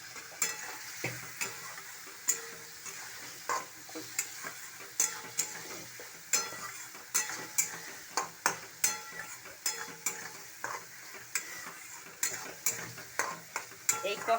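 Spice paste for a mustard fish curry being stir-fried in oil, a continuous soft sizzle broken by frequent rhythmic scraping strokes of a spatula against the pan, close and steady throughout.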